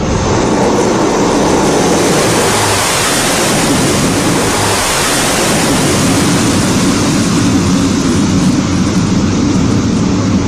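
A C-130J Hercules military aircraft of the Indian Air Force flying in Barmer, Rajasthan, a loud steady broadband roar of engines and rushing air that holds throughout without a break.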